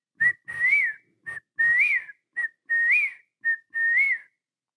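A person whistles an imitation of a whippoorwill: four clear, close repetitions of a short note followed by a longer rising-and-falling phrase, evenly paced and loud.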